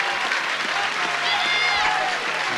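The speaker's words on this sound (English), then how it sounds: "Good applause for the teams as they come off" Crowd applause at a 1990s football cup match as the teams leave the pitch, steady sustained clapping from a large stadium crowd with a commentator talking over it.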